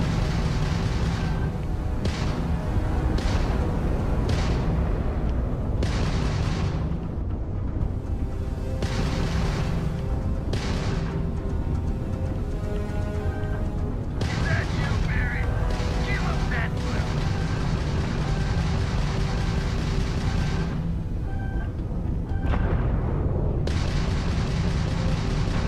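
Video game combat with dense, continuous gunfire and booming impacts, loud and sustained throughout, with a voice talking over it at times.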